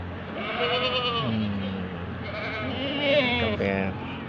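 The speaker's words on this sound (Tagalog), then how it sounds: "Kambing, kambing." Several goats in a pen call out in a run of wavering bleats, some near and some farther off, overlapping one another against low background noise.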